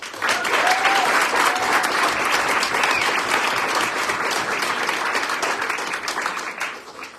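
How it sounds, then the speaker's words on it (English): A large crowd applauds steadily and loudly for several seconds, the clapping thinning out slightly toward the end. "Another round of applause."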